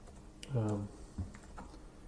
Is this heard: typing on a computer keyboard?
yes